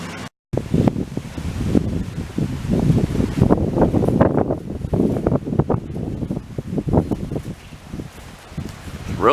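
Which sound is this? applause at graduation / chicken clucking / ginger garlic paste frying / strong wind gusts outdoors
strong wind gusts outdoors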